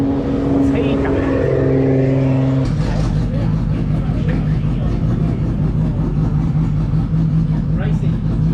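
Loud, close engine roar from SR20-engined race cars at a roll racing event, a sustained buzzing drone that shifts pitch partway through as another car takes over, with voices talking faintly underneath.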